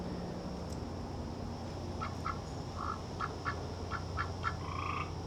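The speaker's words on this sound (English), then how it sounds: "That big sound is coming from that little bitty frog." A small frog croaks in a series of short, quiet calls that come faster toward the end, heard over a low steady background hum.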